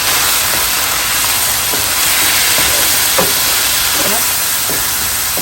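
Food fries in a kadhai with a loud, close, unbroken hiss, dotted with occasional light clicks and scrapes from stirring.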